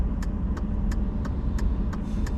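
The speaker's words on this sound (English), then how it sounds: "Look at the traffic. How heavy it is." Steady rumble of heavy road traffic in Minot, North Dakota, with cars passing in a continuous flow, engines droning close by and a few brief higher whooshes on top.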